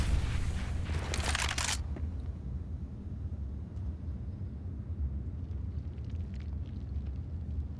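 Explosion from a grenade in the game CS:GO, a loud broadband blast that fades into a sustained low rumble with faint game ambience afterward.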